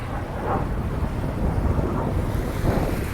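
Gusty wind buffets a boat travelling the Intracoastal Waterway off North Carolina, a steady rushing roar with low rumbling swells and water wash, continuous and close with no voices.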